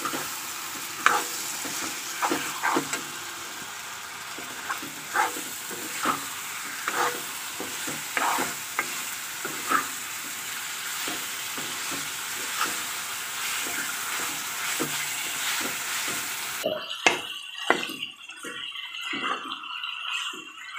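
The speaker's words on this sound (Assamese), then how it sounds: "মাংসখিনি দি মই ভালদৰে 5 মিনিট সময় এইখিনি ভাজি ল'ম।" Meat fries with spices in a pan, giving a steady close sizzle with scraping stirs throughout, then an abrupt change to quieter clatter near the end.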